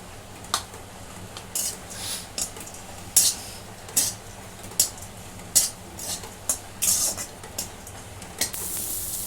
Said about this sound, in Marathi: छोटे मी दोन कांदे घेतलेले आहेत आणि खोबऱ्याचं किस घेतलेला आहे आता हे मी भाजून घेते